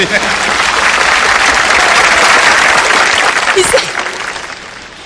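Audience clapping at a concert tribute event, a dense sustained wave of applause from a large crowd that swells, holds and then fades toward the end.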